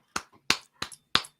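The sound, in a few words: a few hand claps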